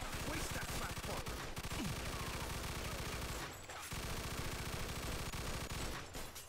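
Gunfire from the video game Mafia II: Definitive Edition, dense rapid bursts of automatic shots that keep going almost without pause, with a couple of brief gaps and voices talking over the shooting.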